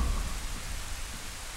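Rain in The Legend of Zelda: Ocarina of Time falls as a steady, dense hiss with a deep low rumble underneath, loud and continuous across the brief moment.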